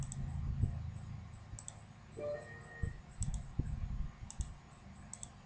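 A computer mouse clicks sharply a few times at close range, with scattered light taps and faint room noise between clicks.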